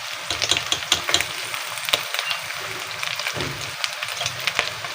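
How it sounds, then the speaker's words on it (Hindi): Ground garlic and ginger paste fries in a pan, giving a continuous close sizzle and crackle with occasional scraping stirs and no voices. "और इसको इस तरह फ्राई कर लेना है"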